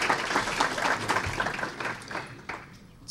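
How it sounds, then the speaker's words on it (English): Audience clapping at a talk: scattered, fairly faint applause from a small group, with uneven claps that taper off. "he deserves a round of applause"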